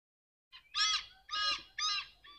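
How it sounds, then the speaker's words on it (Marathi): Out in the Konkan countryside, a bird gives four or five clear, chirping calls in quick succession against near silence. The calls are close and bright, each separated by a short gap. "मध्येच पक्ष्यांचे आवाज."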